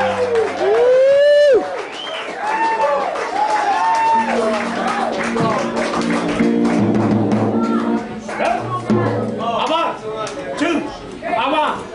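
A live audience at the Thunderbird claps and cheers for a blues singer, crowd noise rising under an announcer's loud voice, with music and voices mixing in as the applause continues.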